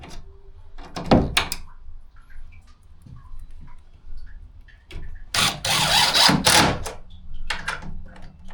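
A screw is driven by power drill during a build for a 900-gallon aquarium tank in a small room: short whirring bursts near the start, then a longer buzzing run in the middle, with clicks and thumps between.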